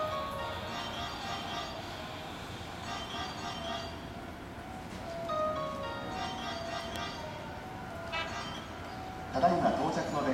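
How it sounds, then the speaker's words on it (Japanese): A Hankyu 6000 series commuter train rolls into a station platform on the Takarazuka line, with a steady rumble and tonal hum under ongoing Japanese platform announcements and a brief louder swell near the end. "まもなく3号線に宝塚方面へ向かう電車が到着します。"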